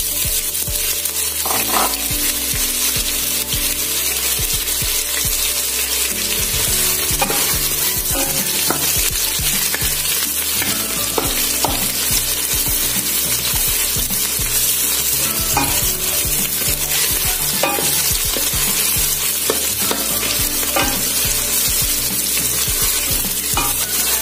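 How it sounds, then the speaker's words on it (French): Onion fries in oil in a saucepan, a loud continuous sizzle with repeated scraping and stirring knocks throughout, close up and steady. "Dans une casserole là, j'ai donc mis de l'huile et je vais donc maintenant mettre l'oignon."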